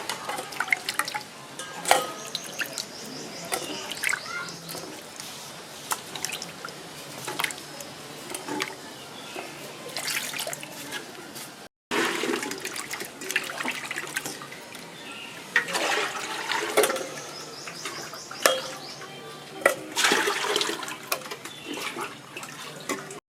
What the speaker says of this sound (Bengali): এইবার আমি ধুয়ে নেবো ভালো করে বেশি করে জল দিয়ে বেশ কয়েকবার করে